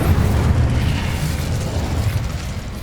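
Blasting-spell explosions from the Hogwarts Legacy video game: a loud, continuous booming rumble that stays heavy and dense for about three seconds without a break.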